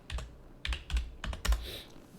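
Quick bursts of keystrokes on a computer keyboard while a stock ticker is entered, irregular clusters of close, crisp clicks with short pauses between them, no voices.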